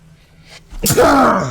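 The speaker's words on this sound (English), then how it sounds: "it was a sneeze" A single sharp sneeze bursts out close to the microphone after a quiet moment, starting with a short intake and ending in a loud, trailing exhale.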